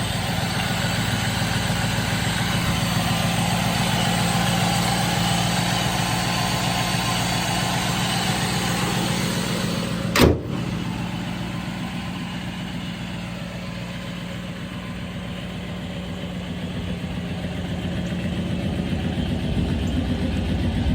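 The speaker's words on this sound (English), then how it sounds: "Engine sounds good." A 1970 Chevrolet Chevelle 396 engine idles steadily and close for a long stretch, a low even rumble with one brief click partway through.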